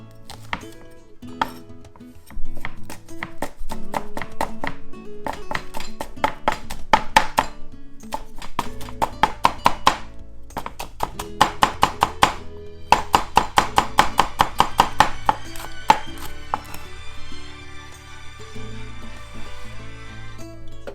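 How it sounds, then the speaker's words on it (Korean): Rapid, rhythmic knife taps on a cutting board as green onion is finely minced for spicy bean sprout salad, bursts of quick chops with short pauses, close and crisp. "대파도 최대한 얇게 다져주시면 됩니다"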